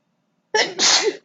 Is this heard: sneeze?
yes